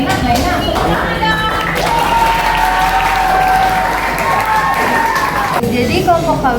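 Classroom applause for a student group during a teacher practicum lesson, a steady wash of clapping lasting several seconds with children's voices and chatter mixed in, fading near the end.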